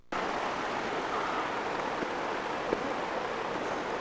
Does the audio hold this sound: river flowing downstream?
yes